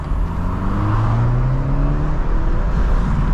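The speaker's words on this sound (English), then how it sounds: "You can hear that turbo spool." A 2023 BMW 330i M Sport accelerating in comfort mode, a steady close engine drone with rising tones as it gathers speed and a faint whir of turbo spool, heard from inside the car.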